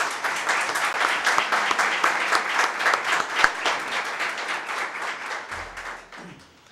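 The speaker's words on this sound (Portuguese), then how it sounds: "Eu queria que todos recebessem o nosso palestrante, o nosso convidado, com uma salva de palmas." An audience at an Escola do Parlamento session gives a round of applause to welcome a guest speaker, dense and fairly close, holding steady before tapering off at the end.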